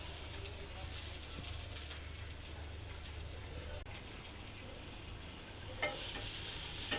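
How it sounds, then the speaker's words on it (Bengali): Pasta mixed with noodles stirred and frying in a pan, a steady dense sizzle holding throughout with light scraping stirs, a couple of louder clanks near the end. "আমার বড় বোন পাস্তা রান্না করতেছে, নুডলস পাস্তা মিশিয়ে।"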